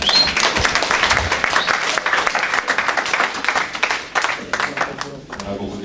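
A church congregation at a sermon on deliverance claps for the Lord, a brisk, fairly loud patter of hands with voices and shouts mixed in, tapering unevenly toward the end.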